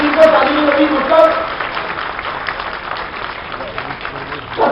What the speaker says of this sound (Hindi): चलिए आनंद आया तो ताली तो बजा दीजिए